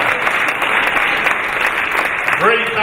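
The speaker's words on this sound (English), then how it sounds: "Give them a round of applause." An audience at a charity auction applauds loudly and continuously, dense clapping filling the room, with a voice speaking briefly near the end.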